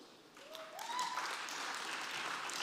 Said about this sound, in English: A round of applause, please.